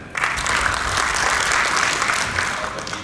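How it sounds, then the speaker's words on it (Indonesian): A crowd at a regional association's official assembly in NTT, Indonesia, breaks into sustained applause, a loud, dense clatter of many hands holding evenly for several seconds. "Tepuk tangan."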